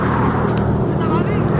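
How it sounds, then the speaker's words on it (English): A car arrives on a highway at night with a steady, loud, close engine and road roar that holds without a break, while voices talk over it. "Someone came. Who's here? The random car came."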